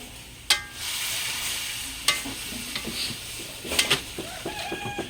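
Green beans seasoned with chili powder fry in a pan, a constant sizzle broken by sharp spatula knocks and scraping stirs, with a bird clucking faintly in the background.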